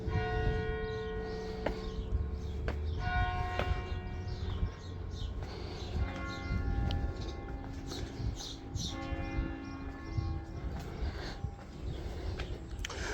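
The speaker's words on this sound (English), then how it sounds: "You can hear the mission bell." Armenian mission church bell ringing near the Old City walls of Jerusalem on Mount Zion, steady repeated tolling with sustained ringing tones over a continuous busy outdoor background.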